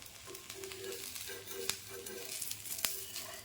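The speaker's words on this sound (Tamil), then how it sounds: "இப்போ வெந்துருச்சுன்னு நினைக்கிறேன், திருப்பி போடலாம்" Adai dosa batter frying on a pan as it is flipped, a soft steady sizzle with light scraping and a couple of sharp spatula clicks against the metal; close and fairly quiet, with no talk.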